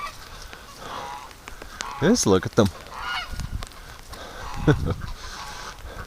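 Geese honk on a farm during heavy rain, with one perched on a compost pile: loud, close, repeated honks over a rainy background while a person talks.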